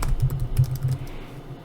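Quick keystrokes on a computer keyboard while writing CSS and HTML code, a short burst of several soft, close clicks in an uneven rhythm, with no talking.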